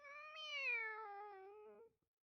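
A person's voice imitates a cat with a single drawn-out meow that rises and then slowly falls before cutting off, clear and close in otherwise silent surroundings.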